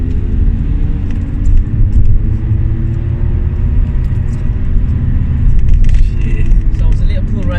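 An Audi A4 with a normal 2-litre engine pulls hard in second gear, a loud, steady low engine roar with rising harmonics building throughout and a brief lift near the end, with a voice speaking over it.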